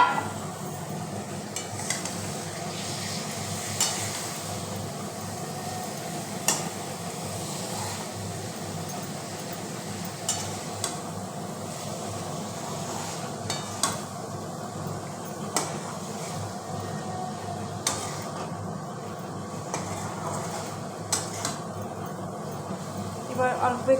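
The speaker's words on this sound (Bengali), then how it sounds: "এবার ভাজা ভাজা করবো, করে সবজিগুলোকে দিয়ে দেবো, ড্রাই ফিশগুলোকে দিয়ে দেবো ভাজা ভাজা করে।" Dry fish and vegetables fry in a pan, a steady low sizzle running throughout with occasional sharp clinks and scrapes of stirring, while someone talks over the cooking.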